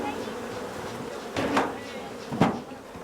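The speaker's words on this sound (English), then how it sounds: "Each box contains tens of thousands of honeybees." Tens of thousands of honeybees hum steadily around a beekeeper's hive boxes in mountain country, a low continuous drone with two brief louder swells as bees pass close.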